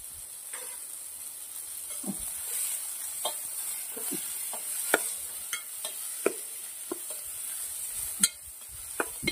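Bitter gourd bhaji with crushed garlic, asafoetida and turmeric cooks over low heat in a pan, giving a soft continuous sizzle dotted with sharp spoon clicks and scrapes, close and without speech.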